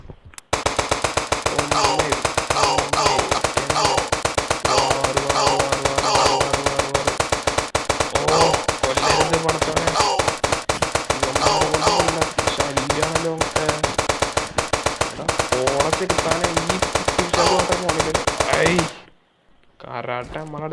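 Rapid automatic gunfire in a video game rattles loud and nonstop for nearly twenty seconds, then cuts off abruptly into near silence.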